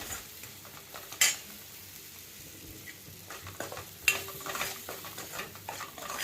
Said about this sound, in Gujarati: ફાસ્ટ ગેસે હલાવતા જવું